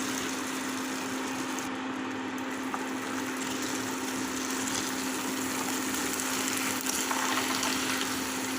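Half a kilo of peas tipped into keema mince frying in oil, giving a steady, close sizzle throughout with a low constant hum underneath.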